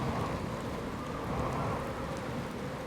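Storms whipping around in the Outer Wilds video game, a dense continuous rush of rain-like noise and low rumble, steady and unbroken for the short stretch.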